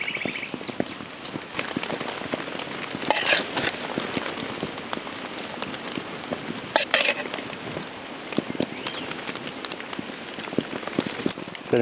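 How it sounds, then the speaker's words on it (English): Early morning rain showers on the Sunshine Coast of British Columbia, a steady patter of drops on surfaces with occasional louder taps, close and soft throughout. "Early morning showers, I guess."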